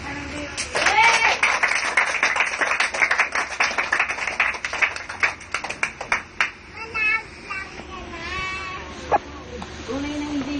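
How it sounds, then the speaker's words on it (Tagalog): Applause from a church congregation, dense rapid clapping that swells and then thins into scattered claps, with voices calling out around it. "O, palakpak ka ng Diyos."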